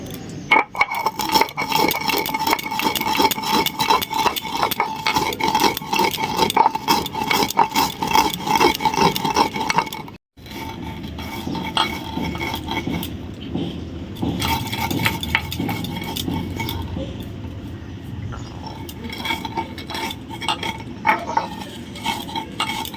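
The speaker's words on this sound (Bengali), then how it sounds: "ভেজে রাখা মশলাগুলো এবার আমি বেটে নেবো" Roasted panch phoron pickle spices are ground by hand, a steady rhythmic rubbing and scraping that runs continuously, briefly stops, then resumes with a duller, lower grinding.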